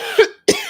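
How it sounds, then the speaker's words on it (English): Two short, sharp coughs close up, separated by a brief silence. "Oh no, I'm going to start coughing."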